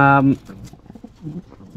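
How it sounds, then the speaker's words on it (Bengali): A pair of Rampuri pigeons gives a loud, close coo at the start, followed by softer, brief bird sounds and a low voice. "এখানে আছে হচ্ছে রামপুরি কবুতর 1 জোড়া"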